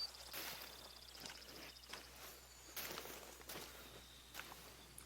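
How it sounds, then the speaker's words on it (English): Footsteps in theHunter: Call of the Wild, a series of soft, irregular steps over a faint outdoor ambience with insect-like chirps, fairly quiet throughout with no voices. "I had my headphones on, and I thought, I can hear some footsteps."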